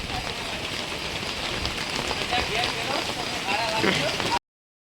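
Steady rain on Girnar mountain patters on surfaces all around, a dense, continuous hiss with voices faintly mixed in beneath it before an abrupt cutoff.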